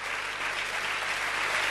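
A church congregation breaks into loud, dense applause, a continuous roar of many hands clapping with no gaps, filling the hall.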